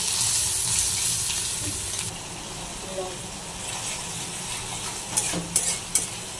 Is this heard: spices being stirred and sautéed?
yes